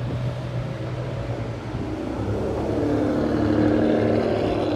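A sports car engine drones steadily as it arrives at Cape 1000 registration day, its deep rumble and rasp slowly building louder over constant background noise.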